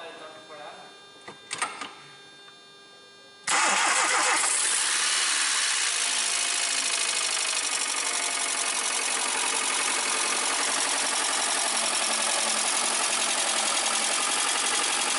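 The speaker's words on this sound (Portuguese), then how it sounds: "Está a trabalhar, pegou bem" Petrol car engine cranking with a couple of brief turns of the key, then catching and running at a steady, noisy idle for the rest of the time, while a faint voice speaks at the start.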